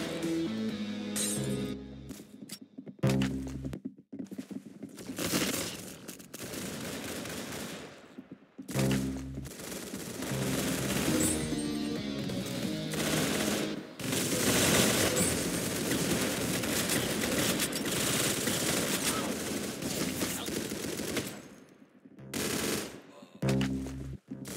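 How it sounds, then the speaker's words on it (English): Rapid machine gun fire and bursts of gunfire rattle loudly in repeated volleys, with short pauses between bursts and occasional metallic clinks. "Very good shooting."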